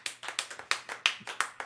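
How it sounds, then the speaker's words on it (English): A small group at a live podcast recording claps for the host, about a dozen distinct, fairly quiet claps in a quick uneven rhythm, no talk. "round of applause for Lonnie."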